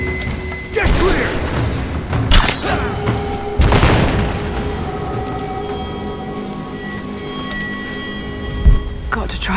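A grenade explodes in the Rise of the Tomb Raider video game, with several loud booms and thuds amid combat noise and voices, one big blast near the middle and a smaller hit near the end.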